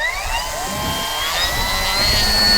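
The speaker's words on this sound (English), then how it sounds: "helps to turn the motor on" The electric motor of an FMS Fox V2 2300mm RC glider whines as it spins up, rising tones climbing steadily and growing louder, close and alone.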